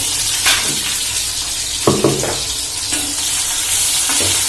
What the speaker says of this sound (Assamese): তেল আমাৰ গৰম হৈ গ'ল, দি দিলোঁ পিঁয়াজ